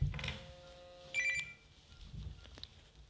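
A mobile phone rings during a Russian round-table meeting, a few short electronic ringtone bursts heard from the room, fairly faint, with some low background noise.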